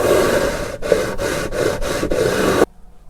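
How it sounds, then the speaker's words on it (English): Steady back-and-forth rasping of a 12-inch sanding block over the frets of a 1970s Crestwood 2064 guitar, rhythmic strokes with brief pauses, close up, stopping abruptly near the end. "that's it for the sanding with the 12-inch block"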